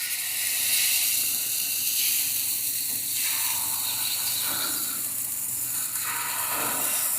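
Pancake batter sizzling on an oiled Ninja FlexFlame grill half griddle, a steady broad hiss that holds throughout with faint soft shifts, no voices.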